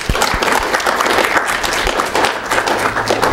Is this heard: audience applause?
yes